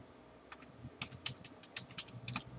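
Keys clatter on a computer keyboard while IP addresses are entered into a Cisco router script, short irregular clusters of close, crisp keystrokes in a quiet room.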